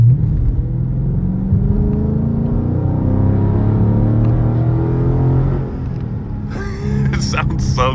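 Deep, steady engine rumble from a 2023 Dodge Charger Scat Pack pulling hard in sport mode, heard from inside the cabin, with a brief dip in the drone near the end and a voice speaking over the last couple of seconds.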